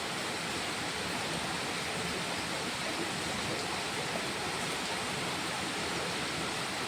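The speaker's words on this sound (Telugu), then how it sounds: "ఏ ముత్యాలు, ఆ ముత్యాల సరం లెక్క బుద్దుగా నడతాయో వాన నీళ్ళు" Heavy rain falls as a dense, constant hiss that holds at the same level without a break for several seconds, with no voices heard.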